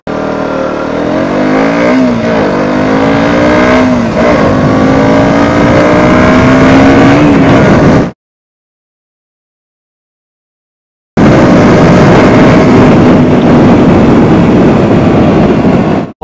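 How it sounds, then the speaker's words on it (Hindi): A KTM Duke 125 motorcycle accelerating hard from a standstill to 60 km/h, its engine note climbing loud and close through several gear changes, then a gap of silence before another sustained high-revving run. "आज हम ये चेक करने वाले हैं कि ये कितने सेकेंड्स में 0 से लेकर 60 किलोमीटर पर आवर में जाती है"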